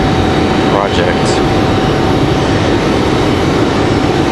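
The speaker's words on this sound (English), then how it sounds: "So again, a Frontier 2979 Axel, the Axolotl livery coming in here from Buffalo, New York, the A321neo." Jet engine roar from a Frontier Airbus A321neo in Axolotl livery arriving at Raleigh-Durham (RDU) airport, a steady loud broadband rumble with a faint whine throughout, heard alone without talk.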